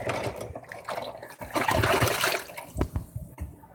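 Hot water running and splashing into a kitchen sink where dishes, plates and a cheese grater soak, a steady rushing stream with clinks and sloshes rising midway, no talking.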